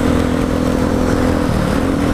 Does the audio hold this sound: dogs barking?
no